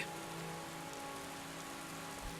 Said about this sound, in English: Let's go outside in the torrential downpour.